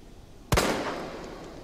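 A single pistol shot fired at a zombie in Resident Evil 2 Remake: one sharp, loud crack with a long, ringing tail fading away, alone against quiet background.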